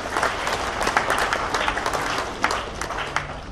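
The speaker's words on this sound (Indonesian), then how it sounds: "sekarang kita beri tepuk tangan dulu kepada Pak David dan Ibu Sri" An indoor community gathering breaks into applause for two guests, a crowd of hands clapping steadily and fairly close, with a few voices murmuring underneath.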